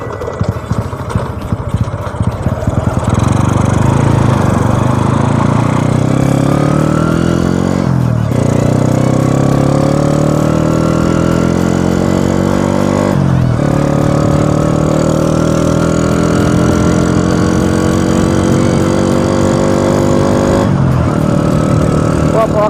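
A Honda Wave 100 motorcycle rides along a road, its engine droning loudly and steadily while rising in pitch through repeated gear changes, with brief dips between shifts.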